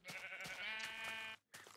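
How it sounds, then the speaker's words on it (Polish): A sheep in the video game Minecraft gives one drawn-out, wavering bleat, close and clear, then starts a second one. "Owce."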